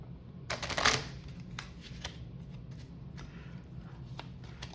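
A deck of treasure cards for a Dragonbane solo tabletop game gets shuffled, with a quick flurry of riffling flaps near the start, then softer scattered card slides and taps over low room hum.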